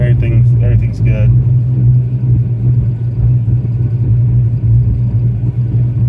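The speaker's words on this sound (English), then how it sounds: "when the car's warming up, it has a little bit of a rumble" A 1987 Fox-body car rumbles while warming up, a loud steady low drone throughout, with a person talking over it at the start.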